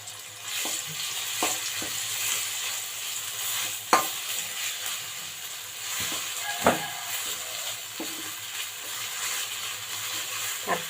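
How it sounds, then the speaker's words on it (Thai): Thai curry paste stir-fries in oil over low heat, with a soft steady sizzle broken by sharp scraping and clinking strokes of a utensil against the pan every second or two. "เราจะผัดพริกแกงด้วยน้ำมันก่อนนะคะ เพิ่มความหอมนะคะ"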